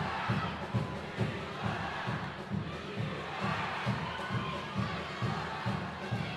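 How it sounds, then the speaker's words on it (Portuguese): Loud indoor crowd at a futsal semifinal match roars and shouts continuously, with rhythmic chanting or stomping pulses underneath and a commentator's voice mixed in. "a torcida faz um barulho ensurdecedor"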